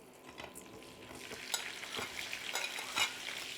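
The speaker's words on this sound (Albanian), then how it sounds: "do t'i hedh pastaj copat e mishit, që të skuqen pak aty" Beef pieces fry in a pot for a sour-milk beef soup, giving a soft, steady sizzle with scraping stir strokes spaced through the clip, quiet and without talk.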